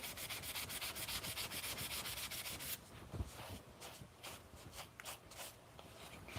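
Hand sanding on soft wood, a steady rhythmic rubbing scratch close by that shifts to lighter, more uneven strokes partway through, with no voices.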